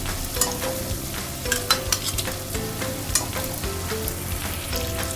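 Chicken karahi with added cream cooks in a pan, giving a steady, close sizzle under irregular scraping stirs and light utensil taps, with a faint hum running beneath.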